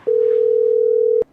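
A steady telephone tone sounds while a call is being placed, one unbroken electronic note lasting about a second, clean and loud, ending with a faint click.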